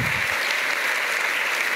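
A church congregation applauds in a dense, steady burst of clapping, loud and close, filling the whole moment without pause.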